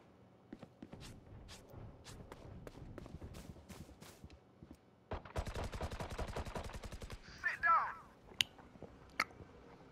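Valorant gunfire: scattered single shots and footsteps, then a rapid burst of automatic fire with a few more sharp shots, while voices talk over the action.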